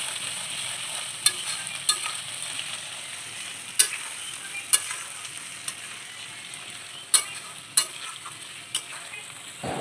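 Ginger sizzling in a hot pan gives off a steady frying hiss, broken by sharp, spaced clicks and scrapes as a utensil stirs it, with no voices.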